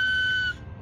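A single short, high, steady whistle tone from a whistle made of coconut leaf sounds for about half a second, then stops abruptly.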